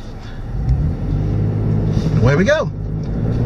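A 2015 Toyota 4Runner TRD Pro engine rumbles at a steady idle, then climbs in a rising rev as the SUV launches, with someone speaking briefly over it.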